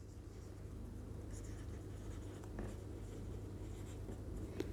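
Hand-writing of a maths equation during a Class 10 linear equations lesson, faint scratchy strokes running steadily under a low hum and background noise, with a teacher's voice nearby.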